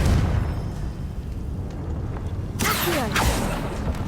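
The Confringo blasting spell from Hogwarts Legacy detonates in a sudden loud burst that cuts through a steady rumbling backdrop. A crackling, fizzing tail trails off after the blast.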